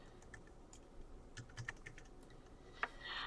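Soft, irregular keystrokes on a computer keyboard, a few distinct taps scattered over a quiet room with no voices.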